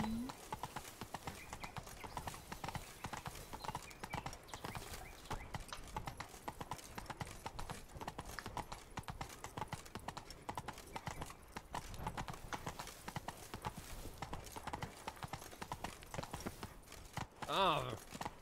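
Roach's hooves trot in a brisk, even clip-clop throughout, a gameplay scene from The Witcher 3, with faint voices talking underneath and a short whinny near the end.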